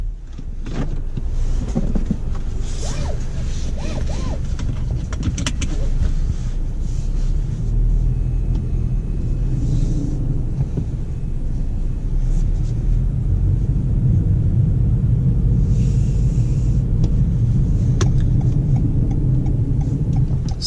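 A 2019 Toyota Corolla Hatchback XSE drives on the road, heard from inside as a steady low rumble of engine and tyre noise, loud and continuous, with faint clicks and thumps from the cabin.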